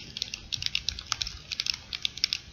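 Buttons on a physical gamepad plugged into a computer are clicked in a quick, uneven run of small, close plastic clicks over a faint low hum, with no talking.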